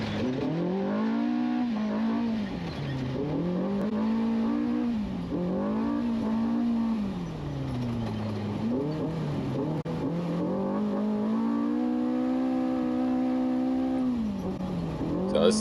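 A Gen 2 chassis UTV race car, a former SCI factory team car, roars through a desert race, its engine repeatedly revving up and easing off in loud, close surges with no talk.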